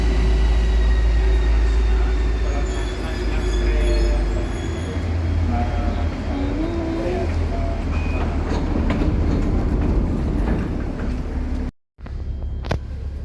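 Loud, steady rumble and rolling clatter of a metro train while riding inside, with squealing wheel tones and a brief dropout near the end.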